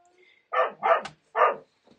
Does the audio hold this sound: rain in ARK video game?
no